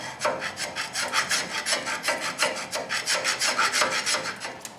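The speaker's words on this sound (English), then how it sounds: "I'm just going to run a file in there and just kind of clean them off a little bit, get some of that corrosion off of them" Rhythmic rasping strokes of a hand file scrubbing corrosion from the face of a brake caliper piston on a 2011 Toyota Tacoma, about a dozen even back-and-forth passes, close and clear with no voices.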